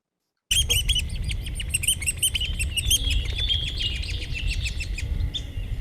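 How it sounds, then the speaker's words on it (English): Adult red-cockaded woodpecker feeding a young male nestling near fledging: rapid, repeated high chirps and squeaky calls run almost continuously, close and fairly loud, over a steady low rumble of background noise. "this short video clip shows an adult red-cockaded woodpecker feeding a young male nestling the day before it left the nest"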